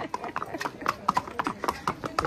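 Horse hooves clip-clop in a quick, uneven rhythm near Matheran station, sharp close knocks on hard ground, with people talking over them.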